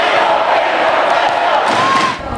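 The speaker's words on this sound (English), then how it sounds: "a near standing room only crowd inside with two raucous student sections" A raucous student crowd at a packed high school volleyball rivalry game roars and cheers in a loud, continuous wash of shouting voices, close and dense throughout.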